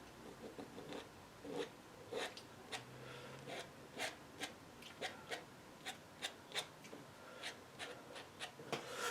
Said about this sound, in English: Let's just do a bit of a scrape here.